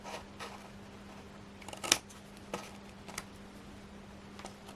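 Scissors snip through paper card in a papercraft project, a few quiet, sparse cuts with one sharper snip near the start, close up and alone.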